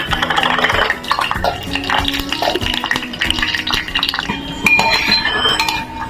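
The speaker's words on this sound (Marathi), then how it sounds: "या तेलामध्ये शेंगदाणे भाजून घेणार परतून घेणार" Peanuts roasting in oil in a pan for a traditional Konkan colocasia-leaf dish, a busy clatter of scraping, stirring and bubbling oil with irregular knocks of the utensil against the pan, loud and close.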